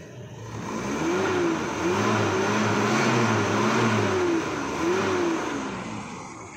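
A 1995 Mazda Vantrend engine revving, rising and falling in several smooth throttle swells over a steady mid-pitched drone, close and fairly loud with no voices.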